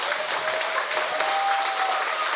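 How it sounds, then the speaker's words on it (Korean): Steady audience applause at a Korean academic lecture, a brief even burst of many hands clapping with no talk over it. "격려의 박수 한번"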